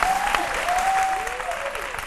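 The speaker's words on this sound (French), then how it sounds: "on applaudit très fort à Lucène." Loud applause from a crowd fills the whole stretch, steady clapping with a faint tonal whistle running through it.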